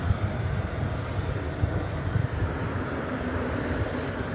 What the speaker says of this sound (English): That's American Flight 2403 touching down just as we speak from Atlanta, Georgia, an Airbus A321.